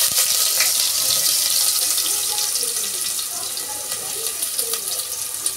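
Onions dropped into hot oil in a home kitchen, giving a steady loud hissing sizzle that slowly eases over several seconds.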